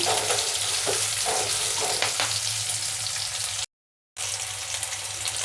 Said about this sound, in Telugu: ఉల్లిపాయలు రెండు నిమిషాలు పచ్చివాసన పోయేదాకా వేయించుకుందాము